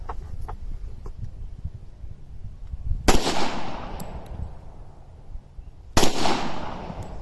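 Two loud, sharp gunshots from a Rock Island Armory M1911 A1 pistol fired outdoors at about 15 yards, a few seconds apart, each with a long decaying echo over a low rumble of background noise.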